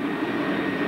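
A steady, dense jet-turbine roar from the General Motors Firebird I, a jet-age concept car, holds at a constant loud level with a broad hissing rush and no breaks.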